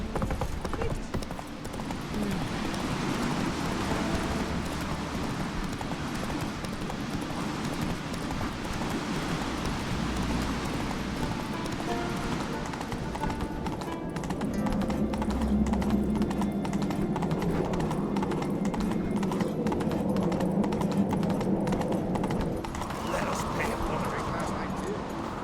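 The horse Roach galloping in The Witcher 3, a steady run of hoofbeats clip-clopping continuously at a fast rhythm, close and prominent while voices talk over it.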